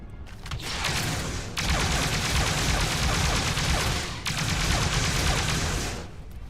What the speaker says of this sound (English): He's pointing his gun through the wall and shooting me.